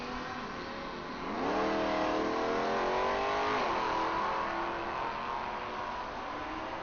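A slow drag racing car launches down the strip at a class nationals event, its engine note climbing steadily as it accelerates, then holding a high, strained pitch. The engine sounds fairly distant and moderately loud, with no talk over it.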